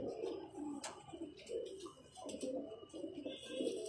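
Small round-chested pigeons coo softly and steadily, several low throaty murmurs overlapping in a continuous burble, fairly close.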